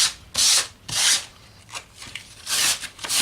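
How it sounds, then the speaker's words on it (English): Sandpaper rubs against fabric to wear it out, several distinct rasping strokes of brisk, loud scraping separated by short quiet gaps. "And just sand your fabric, scraping a bit off."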